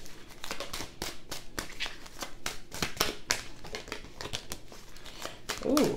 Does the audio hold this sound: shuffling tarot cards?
yes